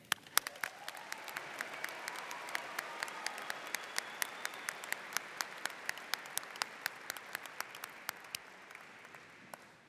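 A large commencement crowd applauds the graduating class of 2023 at a Colorado State University ceremony. Steady, distant-sounding applause runs throughout, with sharp individual claps punctuating it at a regular rhythm.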